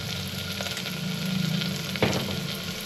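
Onions sizzling steadily in a pan, a close, even frying hiss with a soft scrape or clink of stirring partway through.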